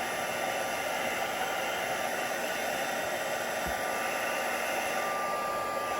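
A heat tool blows hot air to set clear embossing powder on a card, a steady, close, loud whooshing drone that holds unbroken throughout, with no talk.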